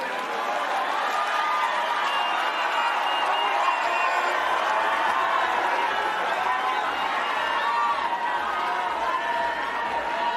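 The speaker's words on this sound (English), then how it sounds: "Another round of applause, please, for the former Prime Minister, Right Honorable Raila Odinga." Conference audience applauding former Prime Minister Raila Odinga at the 8th Devolution Conference in Eldoret, a dense, steady wash of clapping and crowd noise sustained loudly for the whole stretch, with scattered cheers mixed in.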